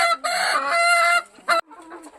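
A rooster crows loudly and close by in one long drawn-out call, followed by a short squawk and softer clucking.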